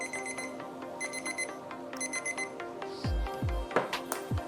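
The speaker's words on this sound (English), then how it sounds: "let's stop the timer" A kitchen timer alarm rings in repeated bright electronic beep bursts, used while testing a Presto 16-inch non-stick electric skillet, with a few soft knocks and handling clatter toward the end.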